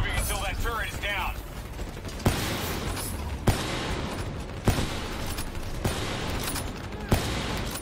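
Turret gunfire in Black Ops III, a steady, loud mechanical stream of rapid fire broken by several sharp, heavier blasts at roughly one-second intervals, with a short voice-like sound early on.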